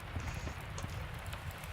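Rain falls steadily in the Miscreated game world, an even low patter around a small village, with faint scattered drops and no voices.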